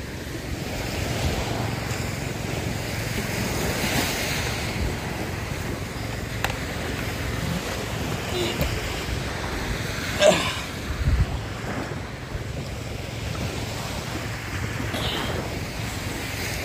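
Ocean waves washing onto a seashore, a steady roar of surf with wind noise on the microphone and a brief louder swell midway.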